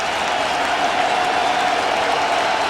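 A large crowd roars steadily at a college football game between WVU and Syracuse in the Carrier Dome, a loud continuous wash of cheering with no breaks.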